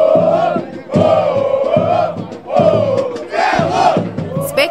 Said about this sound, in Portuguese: A torcida do Velo Clube fez bonito e compareceu em peso no estádio.